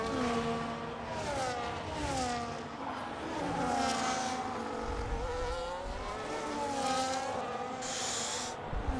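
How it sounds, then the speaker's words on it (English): Formula 1 cars racing on track in F1 25 at the Austrian circuit, several engines whining and sweeping up and down in pitch as they pass, loud and continuous with overlapping cars. "Quite a lot of cars out on track now"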